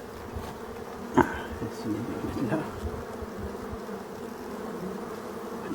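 Honeybees pour out of a hive through strawberry netting set up against Asian hornets in Brittany, making a dense, continuous buzzing swarm drone with a few closer insects zipping past and a brief word spoken over it.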